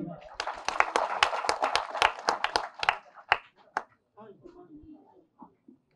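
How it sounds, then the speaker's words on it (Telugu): A live audience at a Telugu film event for the movie Constable, starring Varun Sandesh, claps and applauds for about three seconds. Dense overlapping claps are heard, followed by a few scattered claps and brief talk. "ఒక్కసారి మన కానిస్టేబుల్ గట్టికి చప్పట్లు కొట్టండి"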